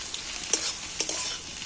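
An egg fries in a pan with a close, continuous hiss and sizzle, marked by a couple of brief louder bursts as it is stirred or moved.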